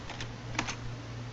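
Keys clatter on a computer keyboard while an IP address is entered, a short run of soft, quick clicks close to the microphone over a faint steady hum.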